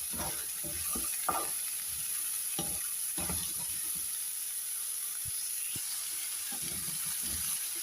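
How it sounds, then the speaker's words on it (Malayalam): Papaya tipped into a pan of half-softened sautéing onions for a papaya coconut-milk curry, giving a faint steady sizzle with scattered scraping stir strokes, no talking. "സവാള ഒരു പകുതി വഴന്നു കഴിയുമ്പോഴത്തേക്ക് നമുക്ക് ഇതിലേക്ക് പപ്പായ ഇട്ട് കൊടുക്കാം."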